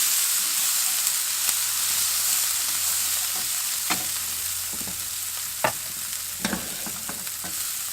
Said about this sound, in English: you have to add the rest of your spices, like that. Give it a good stir.